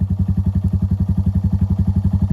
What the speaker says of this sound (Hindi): तो अभी बाइक स्टार्ट हो गई है